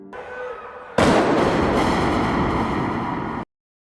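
Police gunfire in a film scene: after a quiet low tone, a sudden loud burst of rapid shots erupts and continues as dense crackling blasts before stopping dead.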